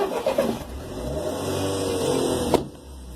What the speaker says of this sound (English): I just want to stand here for a second when he turns on the engine